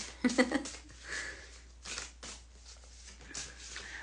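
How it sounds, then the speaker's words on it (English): Papery riffling of tarot cards being shuffled in short bursts, close by, with a few soft taps in between. "Just shuffle those again because a few ladies fell out of there."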